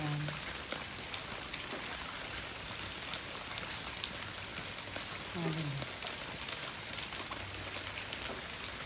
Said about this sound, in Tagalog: Afternoon rain.